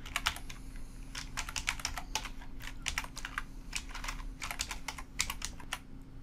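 Code being typed on a computer keyboard: quick bursts of crisp key clicks in uneven clusters with brief pauses, close and fairly quiet over a faint electrical hum, no voices.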